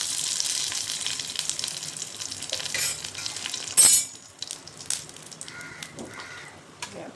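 Curry leaves hit hot oil in a kadhai with spluttered mustard seeds for a potato bhaji, producing a loud close crackling sizzle that drops abruptly to a quieter, faint frying hiss.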